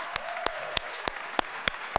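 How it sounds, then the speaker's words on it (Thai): Applause at a Miss AC-DC beauty pageant, heard as sparse, evenly spaced sharp claps over a steady background hiss, fairly close and brief. "ขอเสียงปรบมือดังๆให้เธออีก"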